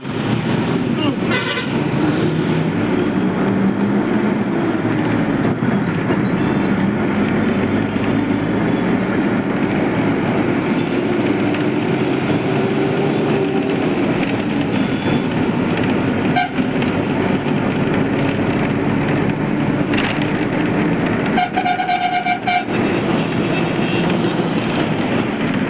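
A train rumbles past close by, heard from inside a moving bus, with a loud continuous roar of engines and wheels and a couple of sharp horn toots. People talk throughout.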